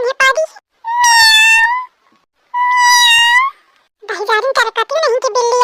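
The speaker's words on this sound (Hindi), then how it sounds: "खूब म्याऊ म्याऊ करत रहे" A cat gives two long, loud, drawn-out meows close by, separated by a short pause, followed by a burst of speech.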